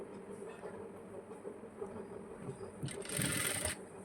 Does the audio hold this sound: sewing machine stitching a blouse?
yes